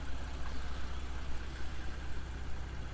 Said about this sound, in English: Sounds great. It's got the sports exhaust.